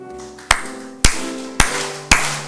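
At a church festival, a congregation claps along to a hymn: four sharp, evenly spaced claps land on the beat, close and loud, over sustained musical accompaniment.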